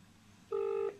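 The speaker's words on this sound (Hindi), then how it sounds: "तो हमने इसको डायल किया और देखते हैं कि ये रिंग करता है नहीं करता" A single DTMF keypad tone, steady and clear, lasts about half a second as a phone dials a test number to a SIM800A GSM module, alone over faint room hiss.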